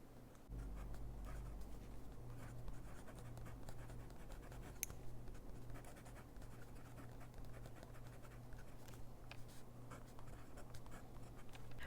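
A Platinum 3776 Century fountain pen with an 18k nib scratches steadily across paper in a quiet room, a faint, continuous dry writing sound with soft irregular strokes and no talk.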